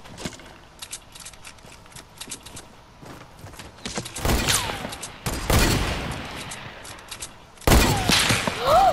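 Gunfire in Fortnite, with a string of light distant pops followed by several loud close shots and sharp blasts spaced a second or two apart.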